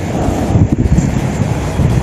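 Strong wind and heavy ocean waves on a beach at Dingalan, Aurora, with a steady low rumble as gusts buffet the microphone, loud and continuous, and no voices.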